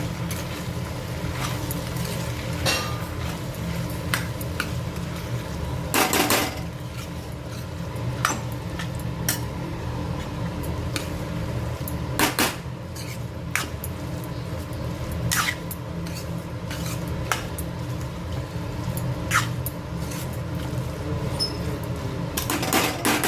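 A spoon stirs powdered sugar into sago and potato khichdi in a pot, giving sparse metallic taps and clinks against the pot over a steady low background hum.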